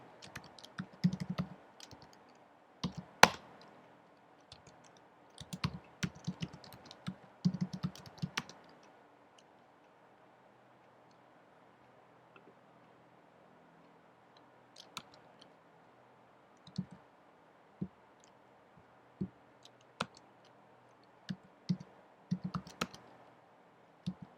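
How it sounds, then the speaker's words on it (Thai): Quiet typing on a computer keyboard while entering a search, scattered clusters of clicky keystrokes with short pauses and a long lull in the middle, close and without talk. "เราก็พิมพ์ค้นหาอย่างนี้นะครับ พิมพ์ค้นหาได้เลยนะครับ"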